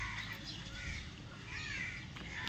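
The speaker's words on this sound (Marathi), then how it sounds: "सारखं कावळे येतात तिथं" Crows caw several times at a moderate distance against a steady background hum, with no talking.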